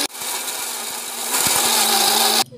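A kitchen mixer grinder grinding roasted sesame seeds for a simple recipe, a loud, steady high-pitched whirring motor hum that rises in intensity partway through and then stops abruptly, with no talk.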